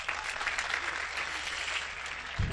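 Steady applause from a crowd at a Hindi comic poetry performance, dense and continuous clapping throughout, with a brief low thump near the end.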